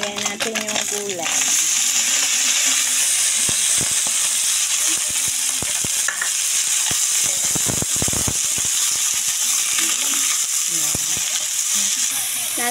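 Leftover fish and vegetables sizzle and crackle steadily in a hot pan, with scattered sharp clicks and scrapes from stirring against the metal, loud and close throughout.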